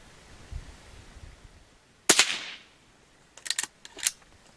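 A Henry Silver Eagle .22 carbine rifle fires outdoors: one sharp close crack, then a few quicker pops or clicks shortly after, with no voices.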